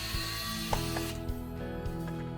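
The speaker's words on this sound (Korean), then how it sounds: "일단 요거 뒷면에 볼트 풀어줍니다 볼트는 총 6개입니다" Bolts being unscrewed from the back of a detachable solar sensor light, heard as a few small close clicks and faint ratcheting creaks over a steady background hum.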